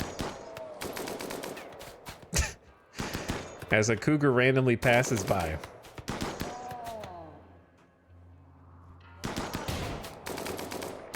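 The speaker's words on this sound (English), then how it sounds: "I keep hearing the occasional gunfire" Bursts of gunfire ring out in the colony-building game RimWorld, with sharp volleys and rapid repeated shots coming and going while someone talks between and over them.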